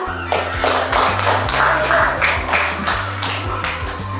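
A primary school class gives group 2 a round of applause during an Indonesian-language lesson: rhythmic, patterned clapping by many hands, loud and steady throughout.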